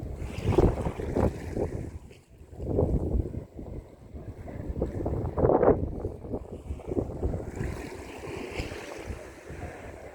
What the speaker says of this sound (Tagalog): Mas malamig na tapos mahangin